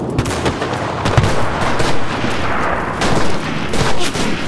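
Dense WW2 gunfire in the shooter game Enlisted, with overlapping rifle and machine-gun bursts and heavy booms crackling continuously and loudly throughout, no voices.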